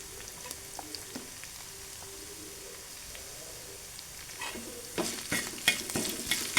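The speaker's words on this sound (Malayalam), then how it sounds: "എല്ലാം കൂടി നന്നായി ഇളക്കുക." A spoon stirs potato and carrot frying in a pan for rava kichadi, with soft scraping at first and sharper, louder clatter and sizzle toward the end, close by with no talking.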